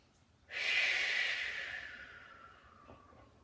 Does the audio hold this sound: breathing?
yes